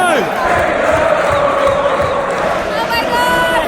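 A packed football stadium crowd at Manchester United versus Chelsea roars and chants in a dense, sustained wall of cheering, with whoops rising above the din.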